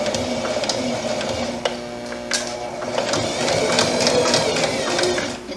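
Sewing machine stitching slowly as an invisible zipper goes in, a steady close mechanical whir with a ticking, ratcheting needle rhythm throughout, no voices.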